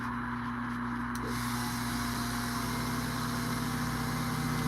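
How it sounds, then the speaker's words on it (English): Silver quarter being sanded into a coin ring with higher grit sandpaper, a steady close rasping rub that runs continuously and alone over a low background hum. "let's go to the higher grit sandpaper"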